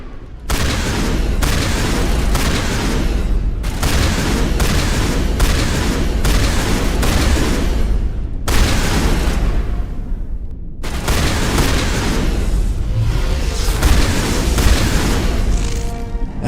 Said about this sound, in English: Alright, shotgun time.